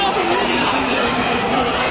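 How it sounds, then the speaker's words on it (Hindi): A dense, steady crowd murmurs at a temple during Saraswati Puja in Jharkhand, many overlapping voices blending into an unbroken babble that fills the scene without a single voice standing out. "ज्यादा भीड़ है यहाँ पे,"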